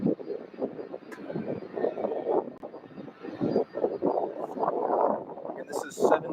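A UPS Boeing 747-8 freighter on its takeoff roll at Louisville airport, a broad rumbling engine roar swelling and fluctuating in the distance, with talk over it.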